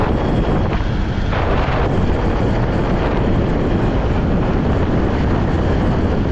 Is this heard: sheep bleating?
no